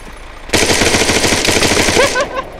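Sustained automatic gunfire in a video game police-station robbery, a loud rapid stream of shots lasting nearly two seconds, close and dense, ending as a voice speaks briefly.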